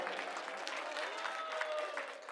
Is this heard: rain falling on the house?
no